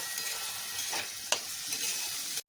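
Cubes of paneer fry with boiled vegetables in a hot pan for a samosa filling, giving a steady close sizzle, with a sharp stir or scrape of the utensil partway through and an abrupt stop at the end.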